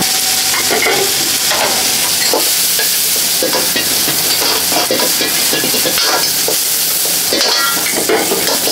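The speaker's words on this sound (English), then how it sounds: "Meat, egg, and wood ear stir fry." Meat, egg and wood ear mushroom stir-frying in a busy restaurant kitchen, loud continuous sizzling with the repeated scrape and clatter of a spatula tossing the food in the wok, no voices.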